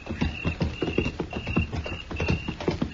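Horses' hooves clip-clop at a steady walking rhythm on hard ground, several animals moving together, close and clear, with no talking over them.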